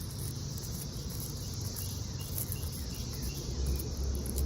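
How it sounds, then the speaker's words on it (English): Seventeen-year periodical cicadas in Montgomery County, Maryland drone as a faint, continuous insect buzz over a steady low outdoor background, with no voices. "this is our 17-year cicadas"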